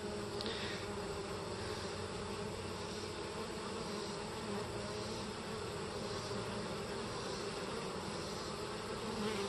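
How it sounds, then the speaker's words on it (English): A continuous dense buzzing of many honey bees at a hive entrance, steady and close, with no pauses or other sounds. "there's a lot of action, a lot of bees bringing in pollen,"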